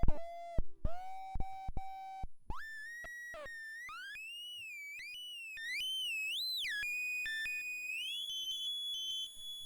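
Tin Can Audio Nightmare Machine synth with its LFO running: harsh electronic tones that start as short clipped beeps, then become a sustained wobbling, pitch-sweeping whine that bends up and down, loud and up close with no voices.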